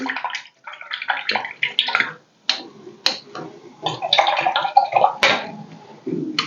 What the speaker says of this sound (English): I have to rinse the brush between each color